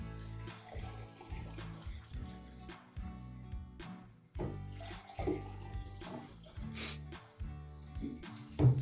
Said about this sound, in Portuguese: vou encher os 2 com a mesma quantidade de água e derramar sobre as amostras